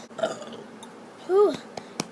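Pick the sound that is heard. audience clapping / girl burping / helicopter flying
girl burping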